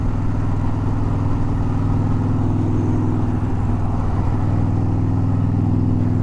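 A car engine runs loud and steady with a deep, throaty rumble, close and continuous with no voices over it.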